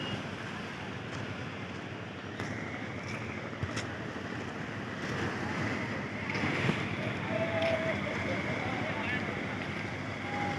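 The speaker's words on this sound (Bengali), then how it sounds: "ট্রলারগুলো জাস্ট ওই সাইড থেকে আসছে" Fishing trawlers coming in at sea near the Digha estuary, a steady engine drone blended with wind buffeting the microphone and wash of water, continuous and fairly distant, with a faint voice now and then.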